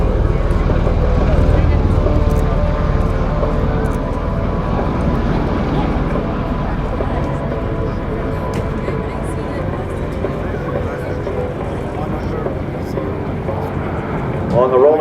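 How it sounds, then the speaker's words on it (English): MV-22 Osprey tiltrotor doing a rolling takeoff with its nacelles tilted to 60 degrees at an airshow at MCAS Cherry Point, a steady loud roar of engine and rotor that fades slightly as it moves away. "Here you'll see what we call the 60-degree rolling takeoff. The nacelles at 60 degrees from the horizontal."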